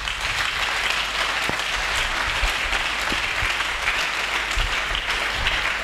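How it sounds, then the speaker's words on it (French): A church congregation at a sermon applauds loudly and continuously, a dense, even wash of clapping with no talk over it. "Est-ce que nous pouvons acclamer très fort?"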